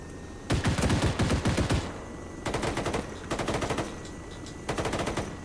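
Automatic gunfire in the military shooter Arma 3, rapid bursts of machine-gun fire in three or four strings with short pauses, loud and close, no talking.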